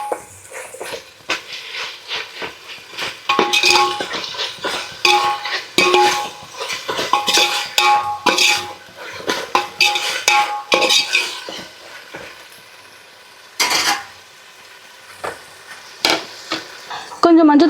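Tomatoes being sautéed in a pot for chicken biryani, with a spoon scraping and clattering against the metal in irregular bursts over a soft background sizzle, near and fairly loud, with brief pauses between stirs.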